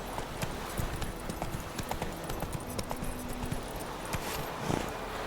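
Roach the horse's hooves clip-clop steadily in The Witcher 3, a quick, even walking rhythm at moderate distance, with faint game ambience behind it and no talking over the hoofbeats.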